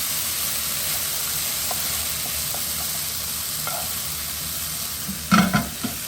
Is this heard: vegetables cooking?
yes